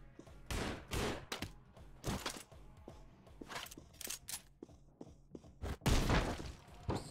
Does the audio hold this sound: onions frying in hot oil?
no